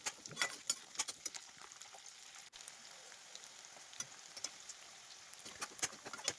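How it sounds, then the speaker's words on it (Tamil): Hill garlic fries in a mix of sesame oil and sunflower oil, giving a close, steady sizzle scattered with sharp crackles and pops, with no voices. "இப்போ வந்து இந்த மலைப்பூண்டை அந்த எண்ணெயிலே போட்டுட்டு நல்லா"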